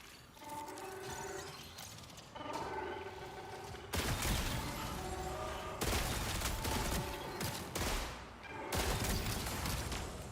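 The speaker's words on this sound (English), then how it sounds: "I love this battle pistol." A battle pistol fires in short bursts in a video game. Several clustered bursts of sharp shots come through over a busy game soundscape, close and fairly loud.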